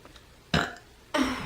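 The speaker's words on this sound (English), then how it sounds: "I have to burp, but I can't." Two short, loud burps from a person, spaced about half a second apart, close to the microphone with quiet room tone between them.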